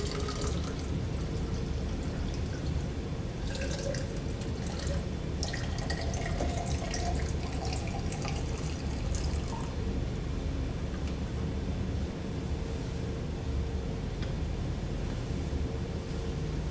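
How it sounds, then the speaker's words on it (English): Water runs and drips into pH buffer chemicals in a lab setting, a steady rushing flow with scattered splashes and drips that fade after about ten seconds into a constant hiss. "all I need to do is add 500 milliliters of water to those chemicals"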